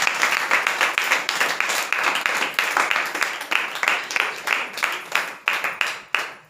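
Congregation at a Sunday church service applauding together, a series of rhythmic rounds of clapping with brief gaps between bursts, loud and close, with no talking over it.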